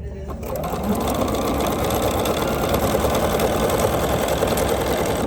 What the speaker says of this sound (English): we're going to go ahead and sew this in. I'll get it under my machine here.